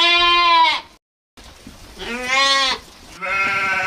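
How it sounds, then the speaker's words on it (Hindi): Sheep bleat loudly nearby in drawn-out wavering calls, three of them in a row separated by brief silences. "चरवाहा सभी भेड़ों को लेकर एक बड़े से घास के मैदान पे गया"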